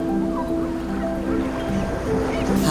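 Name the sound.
sea waves on the Costa Brava shore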